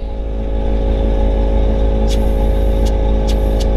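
An air suspension compressor on a 1937 Buick Special sedan hums loudly and steadily from close by, with a few short hissing bursts of air partway through.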